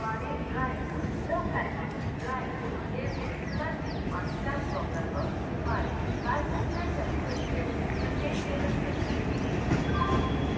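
An Itarsi-shed WAP-4 electric locomotive hauls a train past at close range, a loud continuous rumble and clatter of wheels running steadily throughout, with a voice exclaiming over it.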